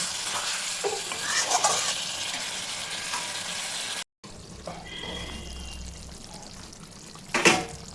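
Mutton curry sizzles as it is sautéed in a home kitchen pan, with a continuous frying hiss, scraping spoon strokes, a brief break midway and a louder clattering stir near the end.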